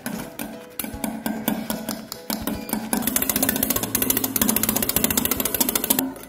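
Egg whites for a fluffy omelette are beaten by hand with a utensil in a bowl, giving a fast, steady run of close clinking and tapping strokes that speeds up and grows denser partway through.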